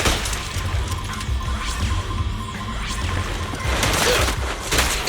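Dense, loud game combat in Zenless Zone Zero, a continuous clatter of gunshots and impacts with sharp cracks and smashes running through the whole stretch, no speech.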